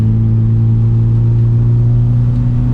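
A tuned Honda Prelude street car engine held steady at about 3,000 RPM gives a loud, constant, even drone with no change in pitch and no voices over it.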